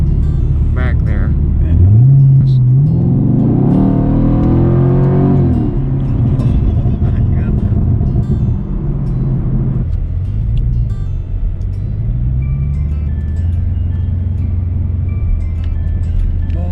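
A 455 horsepower Camaro SS roars as it accelerates hard, the engine note climbing through gears with a rising whine, then dropping back to a lower rumble while people talk inside the car.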